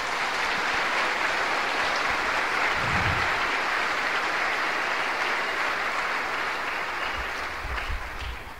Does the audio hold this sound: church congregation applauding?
yes